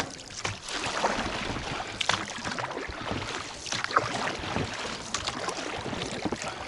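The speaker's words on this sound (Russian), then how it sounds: "Там менее сильное течение, и на веслах проходить этот участок." Oars splash and stroke through grassy river water in an uneven rhythm, with rustling and wind noise close to the microphone.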